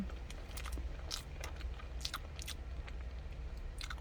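Toasted marshmallow being eaten, close soft chewing with repeated wet, sticky bites and smacks in an irregular rhythm, quiet and without talk.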